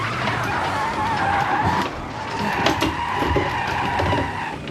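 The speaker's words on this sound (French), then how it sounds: "là je bloque les roues, pas bon." Rally car in the Assetto Corsa Rally racing game locking its wheels under braking into a hairpin, giving a continuous loud skid and tire scrub over engine noise for several seconds, with no talking.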